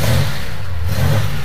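A Ford Mk2 Capri Ghia with a 3-litre V6 engine runs steadily and loud up close, a low engine drone that swells slightly in revs across the whole stretch with no talking.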